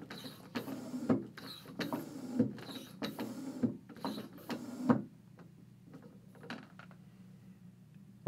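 A tire pump inflates an In&Motion airbag replacement inflator cartridge for an RST race suit. Quiet, regular mechanical pumping strokes repeat about once a second, then stop, leaving a faint background.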